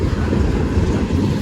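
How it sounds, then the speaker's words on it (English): A long CSX M422 freight train rolls past on a rainy morning, a loud, close, steady low rumble of wheels and cars with no voices. "this train is long"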